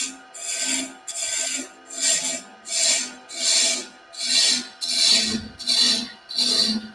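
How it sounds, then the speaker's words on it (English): A spindle roughing gouge cuts wood spinning on a lathe, giving a rhythmic series of about nine raspy, hissing swells, each pass rising and falling at an even pace, close up, with no talk. "I'm going to go back to the spindle rough and gouge,"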